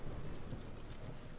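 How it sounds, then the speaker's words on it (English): Steady rainfall in the video game The Legend of Zelda: Breath of the Wild, a constant soft hiss of drops with faint low rumbles, quiet and without voices. "because it's gonna be raining for a while"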